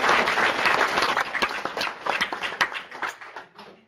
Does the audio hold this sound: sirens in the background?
no